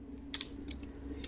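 Keys tapped on a computer keyboard while writing PHP code, a few quick clicks standing out over a steady low hum, fairly close and quiet.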